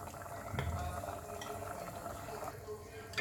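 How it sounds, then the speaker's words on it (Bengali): Cornflour water is stirred into a pot of boiling corn soup, giving a steady low bubbling and gentle liquid churning throughout, with a few soft clinks and splashes near the start. "আমি 1 চা চামচের মতো কর্নফ্লাওয়ার জল মিশিয়ে দিয়ে দিচ্ছি"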